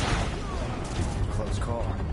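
Gunfire in the video game Final Fantasy VII Remake: dense, rumbling bursts and booms run continuously, mixed with shouted voices over the action.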